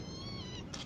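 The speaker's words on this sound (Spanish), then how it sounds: "Este es mi gato." A house cat gives a short, drawn-out meow, close and fairly soft, heard alone.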